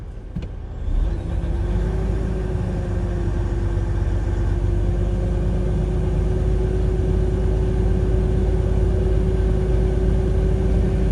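Diesel truck engine held at raised revs of about 1,000 RPM to build air tank pressure, a steady, loud droning hum from inside the cab, rising slightly at the start and then holding even with no talk.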